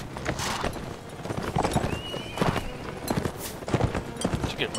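Horse hooves clip-clopping in Mount & Blade Warband, a loud, quick run of irregular thuds with a brief whinny-like tone partway through and no talking.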